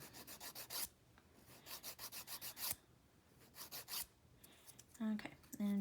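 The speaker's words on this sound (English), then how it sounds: "And again, just filing the sides." Nail file rasping along the sides of fingernails during a dip powder manicure, quick repeated close strokes in rhythmic bursts separated by brief pauses.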